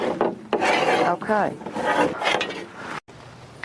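Metal tubing is bent into hoops for garden low tunnels, making close scraping, rasping rubs in several strokes with brief pauses and a short squeal midway.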